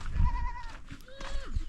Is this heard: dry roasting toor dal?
no